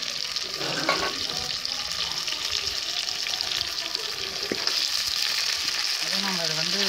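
Marinated chicken 65 fries on a stovetop with a continuous, bright, crackling sizzle and occasional stirring. A faint brief sound rises near the end.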